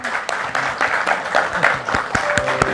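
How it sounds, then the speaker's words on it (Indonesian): Audience at an Indonesian national ministries and state institutions award ceremony claps as a guest is welcomed on stage, a steady applause texture with sharp individual claps and faint tonal background under it, no clear talk. "Boleh dong tepuk tangan."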